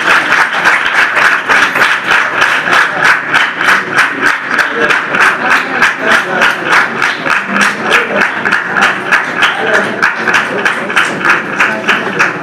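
An audience claps steadily and loudly in dense, sustained applause that holds at an even level from start to finish, with no clear pauses or single claps standing out.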